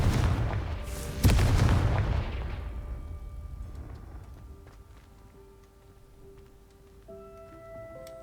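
A Confringo blasting spell explodes in Hogwarts Legacy: a loud, deep boom with a sharp crack near the start, then a long rumbling decay that fades into quiet game ambience and soft tones.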